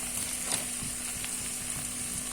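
Onion and tomato fry in oil for a fish curry, a close, steady crackling sizzle with small pops scattered throughout.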